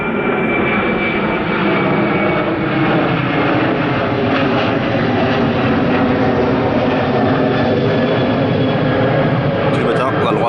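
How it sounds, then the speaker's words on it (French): An airplane passes overhead at a campsite in an Amsterdam outdoor park, its engine roar loud and continuous for the whole stretch while people talk beneath it. "il y a un avion qui passe"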